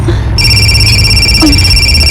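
A cellphone ringtone starts abruptly and keeps ringing as a loud steady electronic trill, with brief voice sounds underneath.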